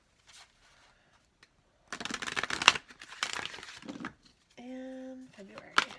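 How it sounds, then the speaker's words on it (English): Tarot cards shuffled by hand, heard as a loud burst of papery rustling and riffling in the middle, with quieter handling noises around it and a brief voiced hum near the end. "Okay, we'll give this one more shuffle."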